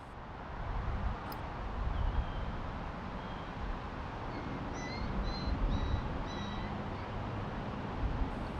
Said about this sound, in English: So about that cat.